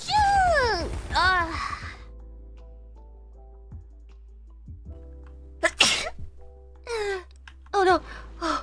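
A loud close sneeze with a squealing high-pitched voiced release opens, followed by quiet and then several short exclamations and gasps from the same person.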